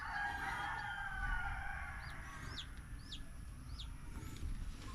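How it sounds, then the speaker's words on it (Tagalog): Chickens and chicks on a farm: a rooster crows and chicks give several short, high peeps, fairly faint and distant over a steady low background hum, with no talking. "Marami tayong mga sisiw ngayon mga kagapay."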